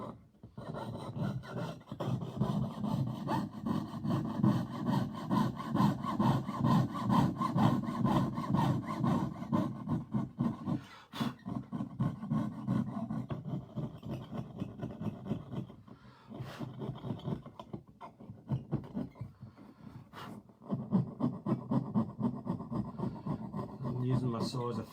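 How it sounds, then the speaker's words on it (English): A saw blade's teeth rasp back and forth along the side of a piece of wood as a makeshift file, a long run of rapid, close scraping strokes with a few brief pauses. "I'm just rubbing it along the side and just straightening it up using the teeth of the saw blade as a file."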